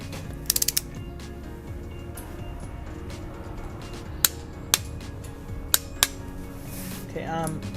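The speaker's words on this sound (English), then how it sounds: "I am torquing these spark plugs to 18 foot-pounds." Ratchet wrench clicking while torquing spark plugs on a Nissan 300ZX engine: a quick burst of clicks near the start, then several separate sharp ratchet clicks spaced about a second apart over steady low background hum, close by.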